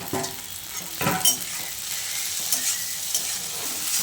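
Pasta is stir-fried in a pan, a close sizzle broken by scraping stirs and light clinks of a utensil, steady and moderately loud, with no voices.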